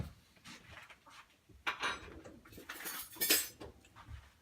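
A spoon scrapes and clinks against a bowl while mixing frosting, a quiet, irregular series of close scraping and clinking strokes with no talk.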